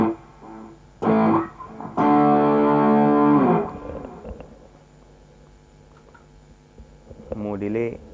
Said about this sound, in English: This distortion with some delay on it.